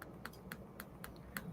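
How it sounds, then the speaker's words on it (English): Clicks on a small laptop's trackpad or keys, about six sharp, faint taps spaced unevenly against a low background hum, with no voices. "Do you hear me clicking?"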